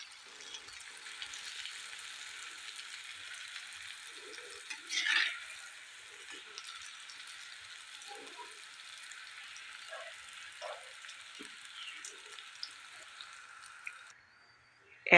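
Assamese jang pitha fries in a kadai of hot oil, a steady soft bubbling sizzle running almost continuously at moderate distance, with brief louder spatters and low voices in the background.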